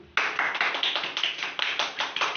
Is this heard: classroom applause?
yes